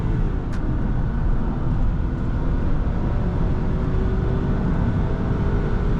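A 1999 Jaguar S-type with a 4.0 V8 pulls hard at full throttle on the road, a steady loud drone of engine and wind and tyre roar filling the cabin, with no talking.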